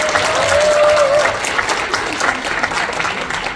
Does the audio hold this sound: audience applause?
yes